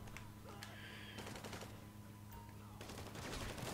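Rapid automatic gunfire bursts in a firefight in GTA 5 Online, quiet and dense, with repeated shots crackling in clusters.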